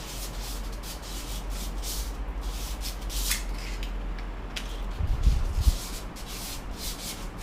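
Steady abrasive rubbing of sandpaper along a lightsaber blade, continuous and close, with a brief heavier scuff near the end.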